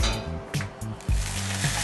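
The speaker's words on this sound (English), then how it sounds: "just adding some balsamic vinegar to it" Balsamic vinegar hits a hot pan still holding the fats and oils left from searing tuna steaks, giving a bright close sizzle broken by a few low clunks of the pan being handled.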